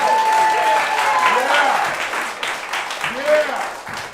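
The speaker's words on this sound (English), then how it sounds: "Applaud wildly right now." A crowd at an all-ages New Year's Eve show applauds wildly, with loud sustained clapping mixed with whistles, whoops and shouting voices.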